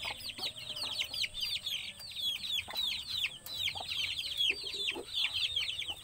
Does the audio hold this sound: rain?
no